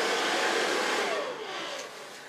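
A handheld hair dryer blows steadily and loud through hair in a salon setting, a continuous broadband whoosh that eases slightly toward the end, with no talking.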